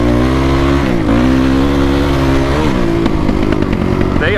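A Honda CRF dirt bike engine with an open exhaust revs loudly up close, pitch rising and dipping through several throttle blips.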